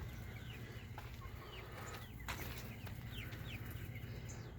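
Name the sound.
chickens clucking inside a chicken coop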